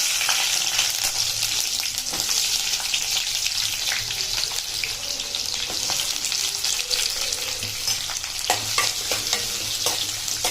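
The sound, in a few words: onions frying in oil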